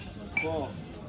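Beer glasses clink together in a lunchtime toast over traditional Albanian food: one bright, short ring that fades quickly against a low murmur of the surroundings.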